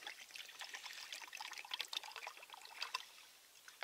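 Water is poured into Russian IRP ration drink powder, a steady close trickling splash running throughout with no talk.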